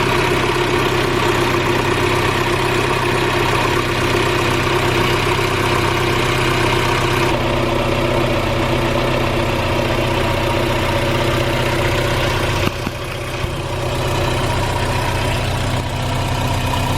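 A Mazda Miata engine idles steadily with newly installed exhaust headers, a loud, continuous and slightly raspy drone close to the microphone, running alone without speech and shifting briefly near the end.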